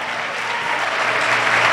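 A church congregation applauding in praise of God, dense sustained clapping that swells slightly louder toward the end.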